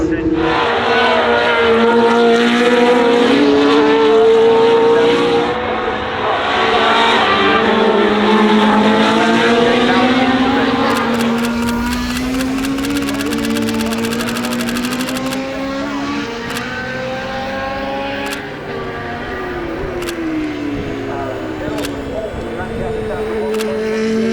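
Formula 1 race cars at a race event roar past loudly and continuously, engine pitch sweeping up and down as several cars pass close by, with sharp clicks layered on top.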